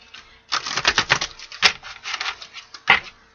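Tarot cards shuffled by hand in quick crisp bursts of riffling clicks, a run of rapid taps followed by two shorter separate flurries, close and alone.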